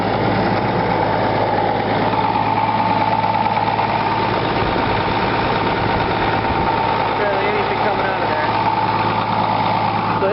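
A Case 2290 tractor engine idling just after a cold start, a steady, loud, continuous diesel rumble with a constant low hum and no change in pace.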